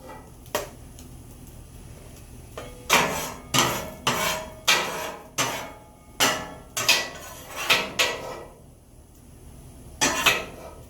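A metal spatula scrapes and clanks repeatedly against a Blackstone griddle and container while cooked sausage is lifted off, giving sharp, close, irregular bursts of scraping and knocking over a faint background hum, with no talking.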